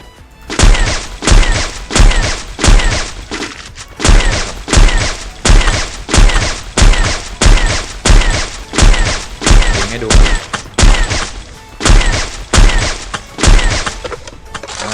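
AWM sniper rifle shots fire one after another in a steady, rapid quick-scope rhythm in a shooter video game, each a loud, close, booming crack, about twenty in fifteen seconds.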